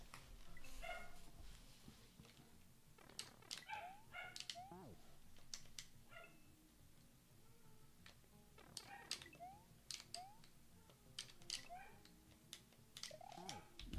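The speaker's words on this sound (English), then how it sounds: "Hope dog sounds aren't coming through." A dog whimpers and yips indoors during a video game session, with thin rising whines and short barks scattered irregularly over about fourteen seconds, faint and somewhat distant under a low steady background hum.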